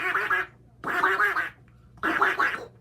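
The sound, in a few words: girl imitating a duck with a duck call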